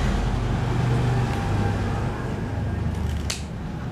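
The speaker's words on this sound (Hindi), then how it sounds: "अब आप इस पर कैंची चला दीजिए आराम से" Scissors slice steadily through fabric cut for a child's umbrella-style (urebi) frock, giving a continuous close rasp over faint background hum, with no talking.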